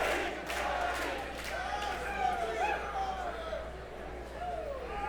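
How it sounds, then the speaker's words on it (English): Capacity crowd at an independent wrestling arena cheers and roars, a broad sustained din with rising shouts, heard from within the hall while a commentator talks over it. "this capacity crowd showing their approval"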